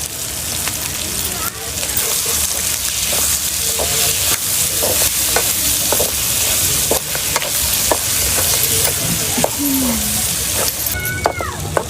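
Quail meat curry fries in a pan with a continuous loud sizzle, broken by repeated scraping and clacking of a spoon as the mixture is stirred, with a brief tonal squeak near the end.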